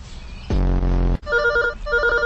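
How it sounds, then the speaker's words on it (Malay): Cartoon telephone rings loudly in two bursts: a thick, buzzy bell ring followed after a brief gap by a brighter electronic warble, with no talking. "Bobo Boy, angkat telefon"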